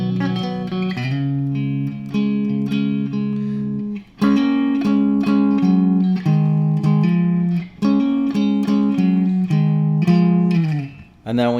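Electric guitar plays the final two measures of a song's intro, clear chordal phrases and rhythmic strums repeating in short bursts with brief pauses between.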